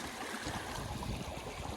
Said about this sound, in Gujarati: તો અહીંયા કેવું પાણી જાય છે નેરાનું